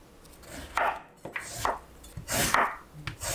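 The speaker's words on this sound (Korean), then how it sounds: "당근 3분의 1개를 채 썰어요." A knife julienning a carrot on a cutting board for a white oyster jjamppong, giving a series of crisp, close chopping taps in an uneven rhythm, about seven cuts.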